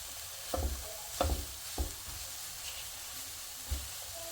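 Onion softens in a pan with no added oil, with a low sizzle and a handful of soft stirring thumps spaced a second or so apart, quiet and close.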